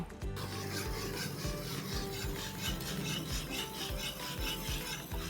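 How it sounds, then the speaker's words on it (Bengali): Steady scraping and rubbing of a spoon stirring a milk and carrot dessert with sugar in a pan, a continuous rhythmic rasp with no talking. "চিনি দিয়ে দিচ্ছি এখানে 2 টেবিল চামচ পরিমাণ সুগার। কন্টিনিউয়াস নাড়তে হবে।"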